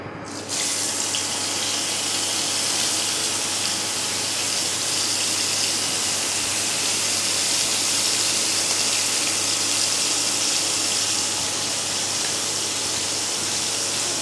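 Spice-coated pieces for a Bengali ilish fry dropped into hot oil, bursting into a loud, dense, steady sizzle right after a brief quiet start and continuing unbroken throughout.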